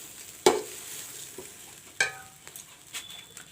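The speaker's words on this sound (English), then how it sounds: "I have fried the rice along with the potato and the soya chunks." Rice fried with potato and soya chunks in a pan, a soft sizzle under sharp spoon clanks and stirring scrapes at irregular intervals.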